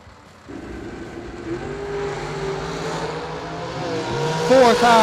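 McKenna Brown's Jegs.com dragster launches at a drag strip, its engine note climbing steadily and growing louder over a few seconds, with an announcer's voice over the roar.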